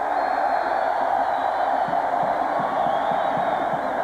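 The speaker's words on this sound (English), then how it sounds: "the crowd applauds" Stadium crowd at a 1990 UCLA vs Oklahoma college football game, a broad, steady distant roar and applause that fills the whole stretch without pause.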